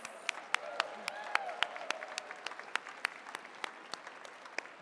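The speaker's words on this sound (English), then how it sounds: "keep the applause going for Vanier College Productions" Sparse, scattered claps from a small audience at an alumni awards show for Vanier College Productions, individual sharp hand strikes at an uneven rhythm over a quiet room with faint voices in the background.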